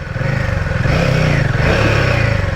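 A Royal Enfield Himalayan 450 single-cylinder adventure motorcycle engine revs hard and steadily up close, a loud continuous throaty drone with a slight rise and fall in pitch, no talking over it.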